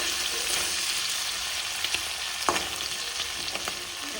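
Shrimp frying in a pan, kept cooking until the water fully dries off, gives a steady close sizzle with a few sharp spatters and pops. No one talks over it.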